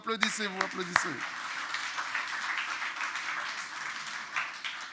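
A church congregation applauds, with a dense, sustained wash of clapping running throughout after a few brief spoken words at the start.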